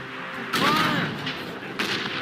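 Ship cannons fire during a naval battle in Assassin's Creed Rogue, with a heavy booming blast followed by a rolling rumble and a second report near the end, over a constant background of battle noise.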